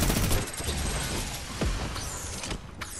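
A video-game minigun fires in a dense, continuous rattling stream, loud and close, with mechanical whirring and a few sharper cracks and whooshes mixed in.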